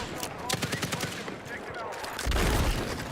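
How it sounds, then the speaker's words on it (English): Mortar fire in a video game: a string of quick, close shots gives way to a heavy, rumbling blast that holds for the last second, with a voice speaking over it. "Oh god, they're mortaring us."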